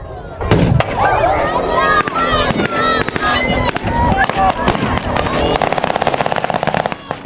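Rapid bursts of gunfire and booming explosions at a battle reenactment festival in Altai crack repeatedly, loud and close, with overlapping shots and shouting voices in a chaotic battle din.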